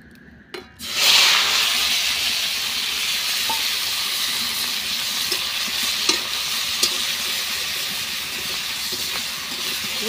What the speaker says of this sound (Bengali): এখন ফোড়নটা দিয়ে দিব।